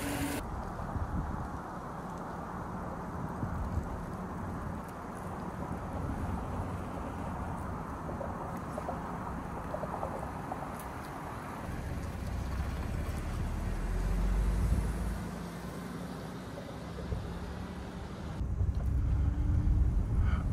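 Supercharged Audi S4 with new cold air intake filters driving on the road, a steady low engine and road rumble with wind buffeting the microphone, swelling louder at times as it accelerates.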